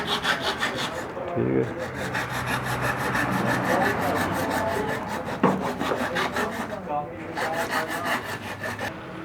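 A hand saw blade cutting through an LED light fitting, a steady rapid rasping back-and-forth stroke rhythm, close and continuous, with a brief spoken word partway through.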